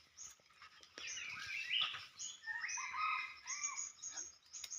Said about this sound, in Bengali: এই যে পাহাড়ের মধ্যে মুরগি ডাকতে আছে